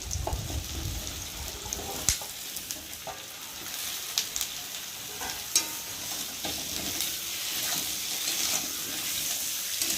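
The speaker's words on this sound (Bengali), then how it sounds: "আলু জন্য তেল দিলাম আর এখন আমি আলুগুলোকে দিয়ে দেবো" Potatoes being fried in a little oil and stirred in a pan; a soft continuous sizzle with a few sharp clinks and scrapes from the stirring, fairly quiet, with no voices.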